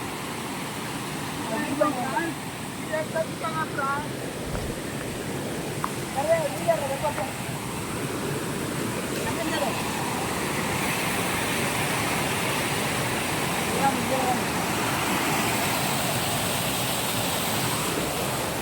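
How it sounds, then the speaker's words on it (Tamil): A village waterfall pours in a steady, broadband rush that holds throughout, with a person's voice talking briefly over the roar early on. "வாங்க, அழகான ஃபால்ஸ்."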